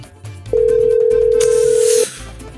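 A single steady electronic phone ringback tone sounds loud and close for about a second and a half, with faint background noise before and after it.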